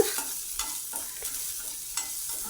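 Chopped onion frying in a pan for vermicelli uppit, with a steady soft sizzle broken by repeated scraping strokes of a spoon as it is stirred, close up and with no talking.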